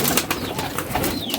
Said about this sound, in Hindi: ये लो कबूतर